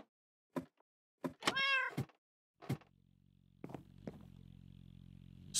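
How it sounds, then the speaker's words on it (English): Cat meowing in the Minecraft video game, several short close meows in quick succession, one drawn out, followed by a soft low hum and a few thuds. "You will be Spooky the cat."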